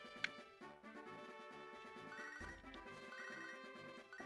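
A Pokémon video game plays the ringtone of an incoming phone call, a steady electronic chiming melody that repeats quietly over several seconds with no talking.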